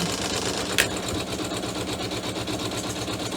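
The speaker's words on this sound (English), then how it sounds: "So you can see it's just stitching a placement line, then I'll place the fabric over the top of it" An embroidery sewing machine stitches a fabric placement line for a pouch, a steady rapid mechanical whir of needle strokes running close and continuous throughout, with one brief sharp click near the start.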